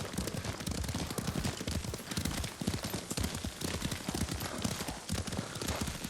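Rapid, steady clip-clop of horse hooves while riding at speed in Ghost of Tsushima, loud and close, a continuous galloping rhythm with no talking over it.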